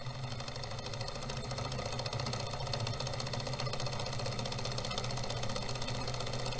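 A small engine driven by heat from a wood-burning stove runs in a steady, faint mechanical rhythm, ticking evenly and continuously with no talk over it.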